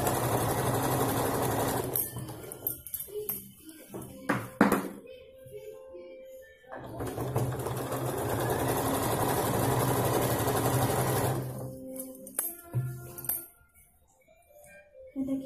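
A sewing machine stitches a baby chaniya choli, running in long steady whirring bursts broken by short pauses and a few light clinks, close up with little else around it.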